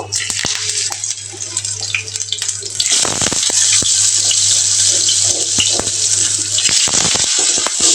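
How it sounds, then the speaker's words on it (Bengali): Potatoes drop into hot mustard oil in a pan and set off a loud, sustained frying hiss that jumps up suddenly partway through and keeps sizzling steadily, close and without talk, with a low hum underneath. "সরিষার তেল গরম হয়ে গেছে এবার আমি চুলার ভিতরে আলু দিয়ে দিব"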